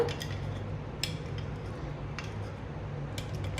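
A spoon stirs a cup of sugared black tea brewed from coffee powder, giving four faint, light clinks about a second apart over a low, steady background hum.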